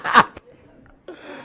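One sharp, close sneeze bursts out at the start, followed by a short breathy sound and some faint murmuring at an evening church service.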